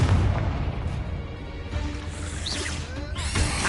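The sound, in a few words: explosive spell blast from the video game Hogwarts Legacy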